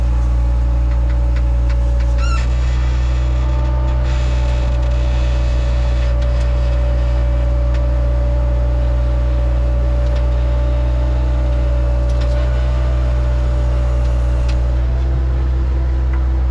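A Bobcat skid steer digging clay while excavating a 75-year-old basement, its engine running in a steady, loud, close droning hum with faint clanks over it.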